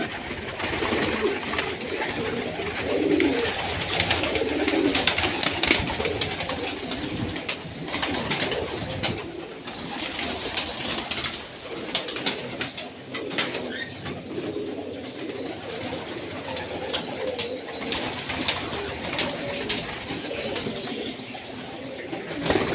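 Many pigeons coo together at a pigeon farm with various breeds and squabs, a dense continuous murmur of low cooing with scattered wing rustles and faint talk in the background.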